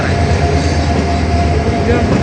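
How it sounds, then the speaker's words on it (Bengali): A Dinajpur commuter train pulling out of Shyampur station, its carriages giving a loud, continuous rumbling roar with a faint rail hum, close by and unbroken throughout. "আমাদের ট্রেনটি শ্যামপুর ছেড়ে গেল"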